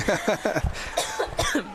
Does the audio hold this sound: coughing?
yes